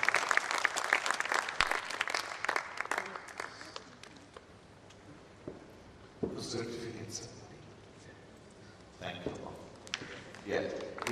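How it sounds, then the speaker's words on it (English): Audience applause at a yoga centre's tenth-anniversary celebration in Dubai, loud at first and then thinning into scattered claps, with talking and stage noise mixed in as it fades. "Please give a fantastic applause."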